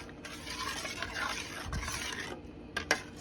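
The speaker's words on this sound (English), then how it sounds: "I'm going to stir it in before I add my rinds back in." A spoon stirs cinnamon into thick watermelon rind candy syrup in a pot, giving a soft, close swishing with light scrapes and a couple of small clinks near the end.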